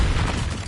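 The Confringo explosive spell goes off in a wizarding video game as a single short, loud, low boom with a rough, rumbling burst.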